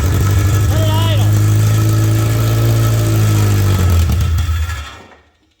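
A Toyota MR2 with a swapped K24 engine idles on its first start, a loud close steady drone with a low hum, before the engine shuts off and fades to silence near the end; voices can be heard briefly over it.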